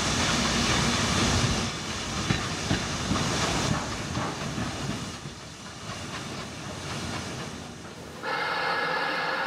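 A steam pannier tank locomotive on a branch line chuffs and hisses nearby, with clanking rail noise and bursts of escaping steam, ending in a steady hiss.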